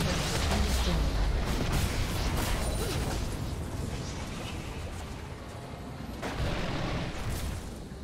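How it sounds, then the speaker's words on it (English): Turret destroyed in League of Legends: a dense, rumbling crash of explosive booms and crumbling debris that swells, dips and returns, loud and continuous throughout. "Red team's turret has been destroyed."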